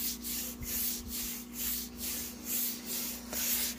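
Paintbrush dragging chalk paint across a wooden nightstand in rhythmic back-and-forth strokes, about nine soft scrubbing swishes at an even pace, quiet and close, with a faint steady hum underneath.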